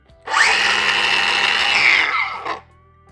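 Bosch GWS 18V-180 PC cordless angle grinder spinning up, running at a loud steady high-pitched whine for about two seconds, then winding down.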